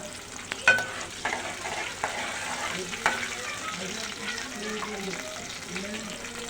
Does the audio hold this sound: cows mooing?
no